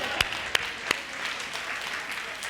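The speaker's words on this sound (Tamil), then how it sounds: "கைதட்டுங்க பார்த்து." A church congregation clapping at a promise service, steady crowded applause with a few sharper claps standing out near the start.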